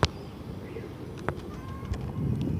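Pigeons cooing at an outdoor Sunday bird market in Multan, soft low coos amid a murmuring background with scattered short chirps and clicks, fairly faint.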